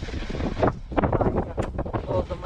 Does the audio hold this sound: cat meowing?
no